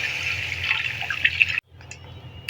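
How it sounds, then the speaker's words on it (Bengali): Water poured into a cooking pot of peas being stewed for vegetable khichuri, a steady splashing gush that breaks off abruptly, then a few softer trickles and drips. "জল দেবো"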